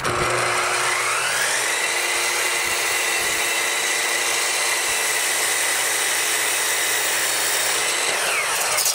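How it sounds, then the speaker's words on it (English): A power saw cuts 2x4 lumber into 41-inch rails for a workbench, a loud continuous whine running steadily through the whole cut with no voices. "now what I'm going to do is cut out what I call the rails, which are 41 inches each"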